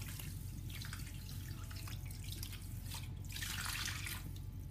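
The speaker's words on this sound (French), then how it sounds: "Ensuite, je rajoute de l'eau." Water poured into couscous semolina during preparation of lamb and vegetable couscous, a steady splashing trickle running throughout, swelling louder near the end, with no talk.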